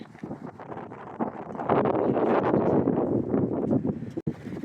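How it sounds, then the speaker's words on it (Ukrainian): Strong wind buffets the microphone on a waterfront promenade, gusting in rough, uneven bursts that swell louder partway through, with a brief sharp knock near the end. "Ось такий вітер піднявся."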